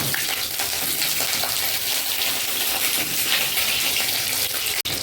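Pointed gourds sizzle and crackle steadily in hot mustard oil in a kadai, a loud continuous frying hiss with no talking.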